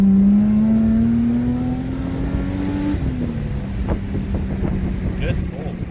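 A custom H6-engined Subaru Impreza drift car revs, its pitch climbing steadily for a few seconds before dropping and settling into a rough, throbbing run, with wind buffeting the microphone.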